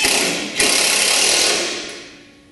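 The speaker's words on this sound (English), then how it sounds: "Take your screwdriver or drill," A power drill whirs as it drives a screw while a snowmobile, ski and snowboard rack is mounted, a short close burst that winds down and fades.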